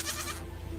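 Mountain goat bleating once on a cliffside, a short nasal bleat that is fairly close, followed by a quieter pause, with no talking.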